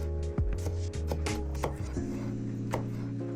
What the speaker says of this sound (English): Now, cut your peppers into strips or chunks.